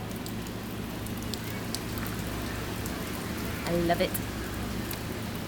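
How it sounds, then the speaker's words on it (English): Heavy rain falls in a steady, dense hiss outside a shelter, continuous and fairly loud, and a voice speaks briefly over it near the end. "It's raining even harder."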